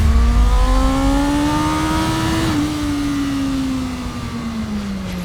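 A BMW racing motorcycle built to win races screams past at high revs, a loud tight whine that peaks and then drops in pitch as it moves away, with no voices.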